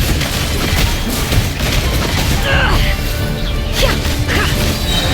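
Bombs exploding in Genshin Impact amid a dense, loud barrage of crashing blasts and whooshes, layered over game music and effects with a voice mixed in.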